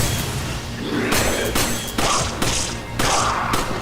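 Grenades going off near a barricade in Resident Evil 5, a run of several dull thumps and booms spaced irregularly over a few seconds amid combat noise.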